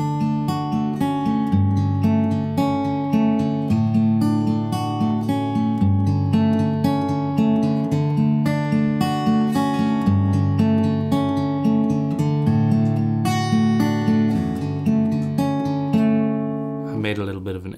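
The intro of a song is played on a guitar in standard tuning without harmonics: steady picked arpeggios of ringing notes, close and clear, with a brief slip near the end.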